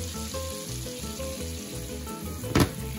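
Garlic sautés in butter in a pan over medium-high heat, a loud continuous close sizzle with a sharp stir or clatter near the end.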